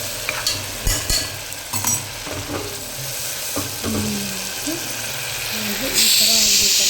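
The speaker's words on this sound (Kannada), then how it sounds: "ನೋಡ್ರಿ, ಈ ಥರ ಹಂಗೆ ಫ್ರೈ ಮಾಡಬೇಕು." Mutton fries in a pan for sambar, with sizzling oil and scraping stirring strokes up close, and a brighter hiss rising toward the end.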